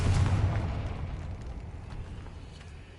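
A Confringo spell blast in Hogwarts Legacy, one deep booming explosion that hits loud at the start, then rolls off into a fading rumble.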